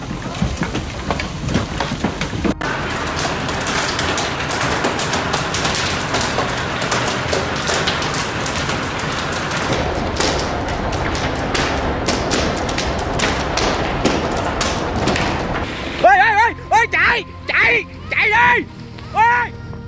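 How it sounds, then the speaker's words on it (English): Large hailstones the size of tennis balls pelting the ground during a Minnesota hailstorm, a dense, loud clatter of impacts and thuds, near and continuous, with voices talking over it toward the end. "Minnesota has just been hit by a massive hailstorm with ice chunks nearly the size of tennis balls."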